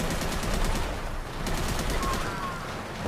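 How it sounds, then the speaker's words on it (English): Gunfire and explosions in the Fallout 4 video game, including an AK74M rifle, a dense continuous rattle of shots and blasts filling the mix, loud and sustained like a pitched battle. "this actually sounds like a proper war. And as you can see, explosions going on everywhere"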